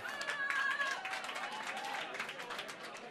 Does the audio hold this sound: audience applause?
yes